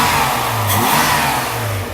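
A Mercedes W126 300SEL engine accelerates during a test drive, giving a loud, smooth, steady hum that rises slightly in pitch over two seconds. No voices are heard.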